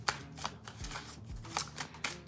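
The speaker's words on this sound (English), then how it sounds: "These cards are bigger, so I can't shuffle them like the standard way" Large oracle cards shuffled by hand in a nonstandard way: a series of irregular papery slaps and riffles, close and fairly loud, with soft thumps between them.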